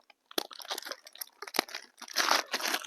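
Crispy pork rinds (khaep mu) are crunched close up while eating, giving a rapid run of crackly, brittle crunches that grows denser toward the end.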